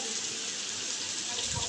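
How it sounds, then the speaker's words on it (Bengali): Water poured from a tap or jug into thick blended masala paste for chicken badami korma, a short steady gushing stream, close and fairly loud. "এজন্য একটু পানি মিশিয়ে দিয়ে দিচ্ছি।"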